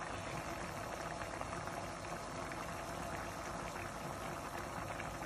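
Chicken jalfrezi sauce with tomato puree boils steadily in a pan, a dense, continuous bubbling hiss that stays level and close throughout.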